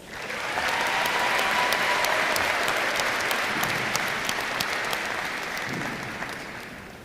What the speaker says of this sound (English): Big round of applause for everyone.